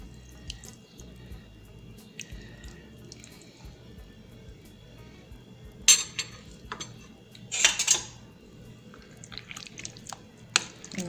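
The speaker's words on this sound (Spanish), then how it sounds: "Esto se lo vamos a agregar a la carne" Thick adobo marinade poured and stirred into meat for homemade tacos al pastor, with scattered clinks of utensils against a bowl and a couple of louder wet scraping bursts, close and fairly quiet.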